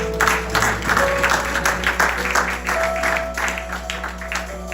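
A church congregation applauds during a French-language worship service, a dense, steady wash of clapping that carries on through the whole stretch with a faint musical hum underneath.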